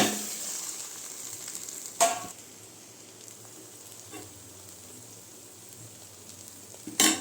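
A snack of cabbage and carrot fries in a pan as an evening treat, giving a soft, steady sizzle throughout with a few brief sharper clinks or pops standing out.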